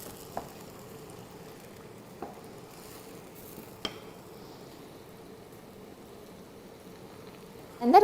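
Vegan cream sauce with shiitake mushrooms simmers in a pan, giving a low, steady bubbling hiss broken by a few faint clicks, with a louder clatter at the very end.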